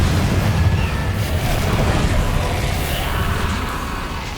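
In the Hogwarts Legacy video game, a Confringo blasting spell goes off with a loud, sustained booming roar that rolls on and slowly fades over a few seconds.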